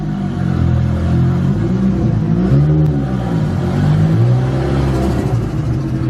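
An SR-swapped Nissan 240SX on new wheels, suspension and brakes cruising along, its engine droning loud and close with rising and falling tones as it gently accelerates and shifts.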